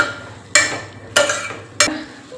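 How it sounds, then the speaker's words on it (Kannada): A spoon stirs zucchini (avarekai) and other vegetables in a cooking pot for a North Karnataka Sankranti festival meal, giving three sharp scraping strokes spaced about half a second apart, close and fairly loud over a faint background. "ಇದನ್ನ ಈಗ ಚೆಂದಾಗಿ ಮಿಕ್ಸ್ ಮಾಡ್ಕೊಳ್ಳೋಣ"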